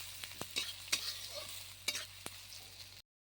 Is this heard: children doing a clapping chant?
no